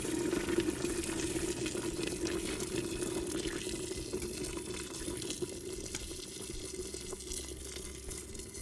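About 1.5 liters of boiling water pours steadily into a pressure cooker pot of Kabuli pulao, a continuous splashing stream at close range, constant in level with no voices.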